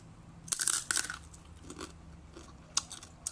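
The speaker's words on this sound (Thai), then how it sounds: "ภายใต้ความแข็งมีความกรอบมีความนุ่มกับส้มตำไป" Close, crisp bites and crunches of hard, crunchy pork rinds (khaep mu) eaten with spicy Thai papaya salad with crab and fermented fish, two loud bursts then softer chewing.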